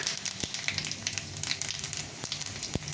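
Panch phoron spices and dried red chillies fry in hot oil with a soft, continuous crackling sizzle and a few sharp pops.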